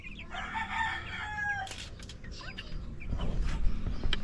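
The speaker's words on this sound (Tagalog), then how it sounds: "Yan, malalaki na yung mga manok ko," A rooster on a backyard farm crows loudly and clearly, with a long harmonic call near the start, while hens cluck and scratch around it. More clucking and shuffling rises toward the end.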